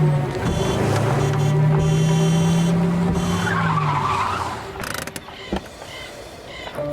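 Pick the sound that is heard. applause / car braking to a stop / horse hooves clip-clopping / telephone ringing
car braking to a stop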